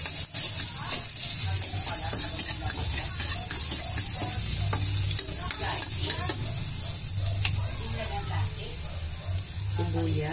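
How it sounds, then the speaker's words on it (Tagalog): Garlic sizzling in hot cooking oil in a pan, a steady continuous frying hiss with faint stirring clatter throughout, close and fairly loud. "lalagyan natin ng mantika. Bibisan natin yung bawang."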